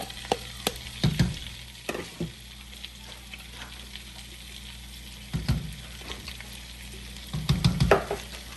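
Onion, carrot, celery, green pepper and garlic sauté quietly in a pot for jambalaya, a low sizzle under intermittent scraping and knocking of a spoon stirring, with no talk.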